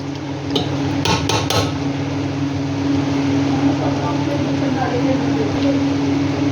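Aloo baingan sabzi is stirred with ghee in a pan, giving a few quick metallic clinks of a spoon on the pan early on over a steady low kitchen hum.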